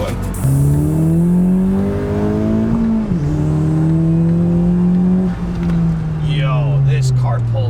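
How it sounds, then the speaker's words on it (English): Modified car accelerating hard, its engine note climbing in steady harmonic sweeps with a brief dip between gears, loud and close throughout, with voices talking over it toward the end. "This car pulls so much better now."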